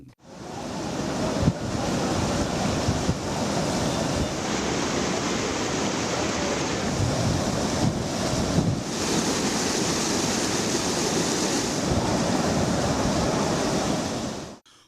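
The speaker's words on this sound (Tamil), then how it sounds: "அதிரப்பள்ளி மற்றும் சார்பா நீர்வீழ்ச்சிகளில் வெள்ளம் ஆர்ப்பரித்து கொட்டுகிறது" Floodwater roars over the Athirappilly and Charpa waterfalls on the Kerala border, a loud, steady, broadband rush that holds unbroken throughout, with wind buffeting the microphone at times.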